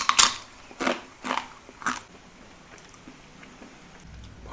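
Crunchy fried pappada boli bitten and chewed close up: a sharp first bite followed by three loud crunching chews, then quieter faint chewing, with no talk.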